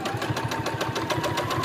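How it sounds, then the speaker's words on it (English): A home sewing machine runs steadily, top stitching a zipper pouch with a waterproof lining: a fast, even mechanical whir with regular rapid needle ticks, close and continuous throughout with no talk. "so I'm just doing the top stitch"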